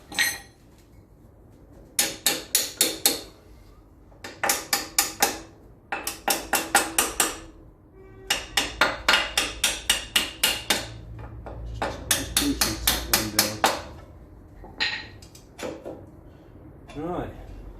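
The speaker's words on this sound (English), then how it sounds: "Where's that hammer?" Rapid bursts of metal hammering while fitting a Land Rover Series axle, ringing sharp strikes in quick runs with short pauses between them, loud and close, with occasional low rumble underneath.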